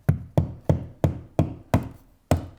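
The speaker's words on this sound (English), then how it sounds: "Just gonna carefully hammer those in so they're pretty much flush." Seven sharp taps of a small hammer driving wall anchors flush strike in a steady rhythm, each a close, solid knock with a short decay, no voices present.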